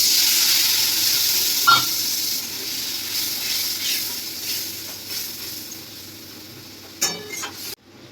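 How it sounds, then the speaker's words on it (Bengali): Spiced masala with coriander powder, chilli powder and salt sizzling in a pan after a splash of water, a steady hiss that slowly fades, broken by a few sharper crackling bursts near the end. "এবার আমরা সামান্য একটু জল দেবো মশলাটা কষানোর জন্য"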